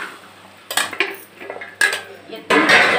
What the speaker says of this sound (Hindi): अब मैं इसमें भिंडी डाल के सिर्फ इसको दो मिनट इसमें बनाऊंगी